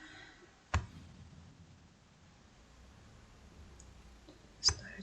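A computer mouse clicks on a plus sign in video-making software: two sharp, close clicks about four seconds apart over a faint background hiss.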